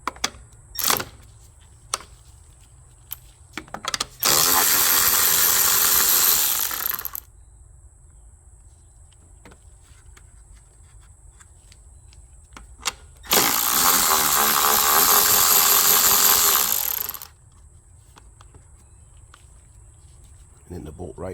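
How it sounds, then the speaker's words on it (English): A ratchet with a 10mm socket works carburetor bolts loose on a Honda EU3000 inverter generator, giving two long bursts of rapid, close clicking separated by quiet pauses and scattered light knocks. "use a 10mm socket to get these 3 bolts here"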